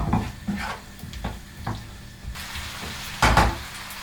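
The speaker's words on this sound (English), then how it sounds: "let's give that a stir through" A spoon stirs sugar through a sizzling black pepper sauce for a fish stir-fry in a pan, with steady frying hiss, scraping strokes against the metal and one louder clatter near the end, close up and with no talk.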